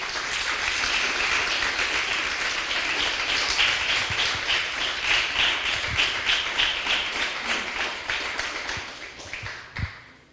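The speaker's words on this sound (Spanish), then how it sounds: "Denle un fuerte aplauso al Señor, aleluya." Congregation applauding the Lord at a Spanish-language church service, a dense steady wash of many hands clapping for about nine seconds, then thinning to a few scattered claps and fading out.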